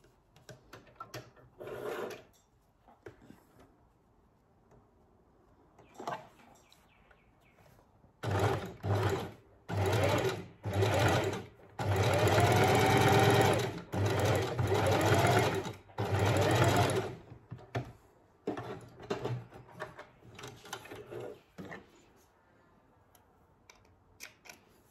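A sewing machine stitches a small dog bow tie in close, loud bursts of rapid mechanical whirring, several short runs starting and stopping with brief pauses and quiet handling noises between.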